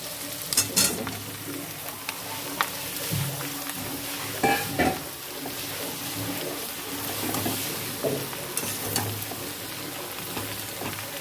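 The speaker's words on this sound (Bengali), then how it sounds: "আনাজটাকে ভালো করে ভাজতে হবে একটু।" Chopped, washed vegetables fry in a pan with a continuous moderate sizzle, broken by a few sharp stirring clinks and scrapes from a utensil, with no talking.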